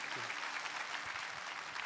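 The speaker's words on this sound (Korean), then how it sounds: "다시 한번 큰 박수로 또 격려해 주시기 바랍니다" A church congregation claps steadily through a Sunday worship service, a dense even wash of applause with faint low murmuring underneath.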